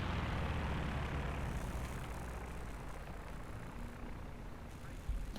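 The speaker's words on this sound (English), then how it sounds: "Now don't be fooled by the planes flying off the map" Aircraft engines drone low and steady as planes fly off the map in the World War II strategy game Company of Heroes 2, a faint rumbling hum that gradually thins out, with no talk.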